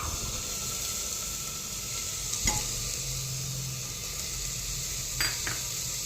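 Corn kernels stirred into a hot tempering in a pan, giving a steady, moderately loud sizzle and hiss with a couple of sharp clinks of the spoon against the pan.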